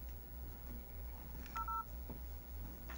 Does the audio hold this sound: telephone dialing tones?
yes